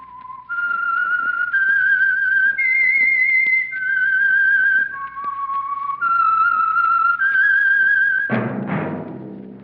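A clear, loud solo whistled melody, the theme tune of The Whistler radio mystery program, sustained held notes rising and falling in a slow eerie phrase, ending with a brief sharp musical sting.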